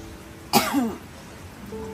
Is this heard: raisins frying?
no